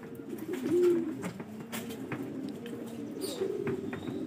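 Pigeons cooing close by during training in Lucena, soft throaty calls rising and falling, with light rustling and a few faint clicks in the background.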